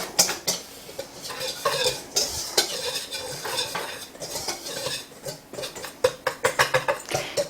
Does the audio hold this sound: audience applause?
no